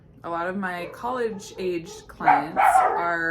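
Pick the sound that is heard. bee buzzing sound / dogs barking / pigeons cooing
dogs barking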